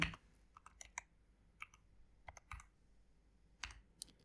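A Linux terminal command is tapped out on a computer keyboard: a few scattered, quiet key clicks with pauses between them, close and faint.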